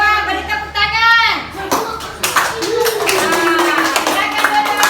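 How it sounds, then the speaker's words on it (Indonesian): Schoolchildren in a classroom clap for a group presentation with scattered, uneven claps and taps, mixed with children's voices chattering throughout. "Demikianlah hasil presentasi dari kelompok 2. Beri tepuk tangan."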